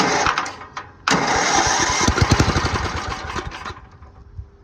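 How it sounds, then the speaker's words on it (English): After a spray of ether, a riding lawn mower's small engine cranks, then catches with a loud, close sputtering roar that settles into an uneven running rumble before easing off. "So I sprayed some ether in there. Let's see if it will pop off."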